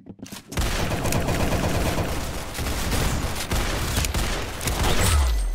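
Rapid, dense gunfire from a shooting video game fills the whole stretch, loud and nearly continuous bursts with no pause.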